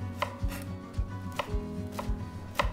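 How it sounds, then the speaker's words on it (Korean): Knife chopping shepherd's purse (naengi) on a cutting board, a steady run of sharp close taps about every half second, six or so strokes with no talk. "송송 썰어주세요"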